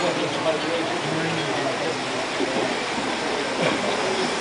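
An S-gauge model train pulled by a pair of 080 and 060 locomotives rumbles along a public-operable accessory layout, a continuous rolling roar with faint clicks under busy crowd chatter.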